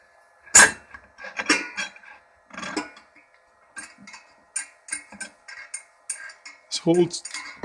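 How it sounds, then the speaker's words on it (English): A metal lid set onto an electric single-vessel beer brewing system, a loud opening clank followed by a string of lighter metallic clinks and taps as it is seated and adjusted. "Now I'm going to put the lid on."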